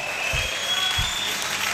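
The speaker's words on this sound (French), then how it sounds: "Acclamons très fort." Church congregation clapping during a sermon, a broad wash of many hands applauding at moderate distance, with a couple of heavier low thumps breaking through the steady patter.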